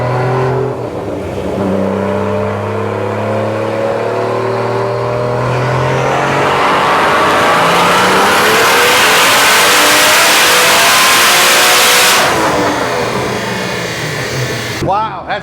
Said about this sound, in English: So it's spinning the tire a little bit on the dyno.